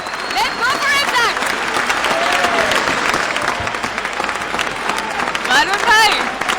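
A crowd at a lively cricket-themed stage event applauds and cheers continuously, with dense clapping and whistles over an announcer's voice.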